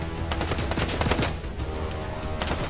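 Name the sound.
three shotgun shots in the video game Fortnite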